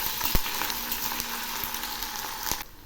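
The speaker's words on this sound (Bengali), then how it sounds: "এই বাটা পেঁয়াজগুলো আমি খুব ভালো করে ভেজে নেব।" Ground onion paste frying in a pan while cooking a taro (kochu) dish, a steady close sizzle with occasional sharp pops and stirring scrapes throughout.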